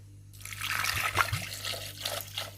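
Water is poured from a one-litre bottle into a kitchen container set on a scale for soup, a close, steady splashing trickle lasting a couple of seconds.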